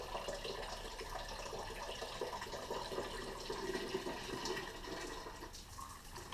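Coolant running out of the radiator of a 2002 Dodge Dakota during a flush, a steady broadband gush of liquid pouring continuously and fairly close, with no talk over it.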